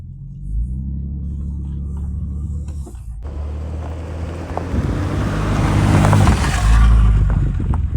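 A 1985 BMW E28 525i with an automatic gearbox drives on the road, its low engine and road rumble building steadily in loudness while wind noise rises, heard from inside with no talking.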